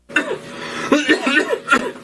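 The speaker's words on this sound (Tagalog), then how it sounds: "to kalala na sa ubo mo" A few rough coughs burst out in quick succession, close and fairly loud, with a throaty, broken quality.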